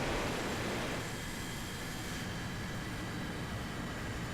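Roaring jet engine of an F-100D Super Sabre fighter in War Thunder, a steady loud broadband rumble and hiss held throughout with no talking.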